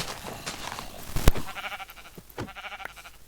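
Sheep bleats in a Minecraft survival game, a few short synthetic calls with a sharp click partway through, heard alone at moderate level against quiet game ambience.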